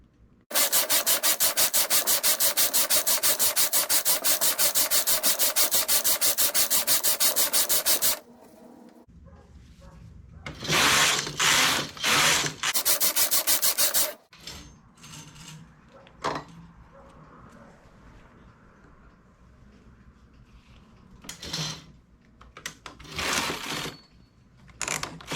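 Knitting machine working rows of a poncho cuff: a long, steady, rhythmic mechanical rasp as the carriage runs across, then several shorter sliding passes with clicks and handling noises in between. Close and fairly loud.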